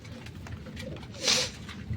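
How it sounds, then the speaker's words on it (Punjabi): Pigeons coo softly nearby, with a brief rustling flutter partway through. "ਦੂਸਰੇ ਕਬੂਤਰ ਵੀ ਭੁੱਖੇ ਐ ਮਾਰਦੇ ਅਡਾਰੀਆਂ ਦਾਣੇ ਮੰਗਦੇ ਐ"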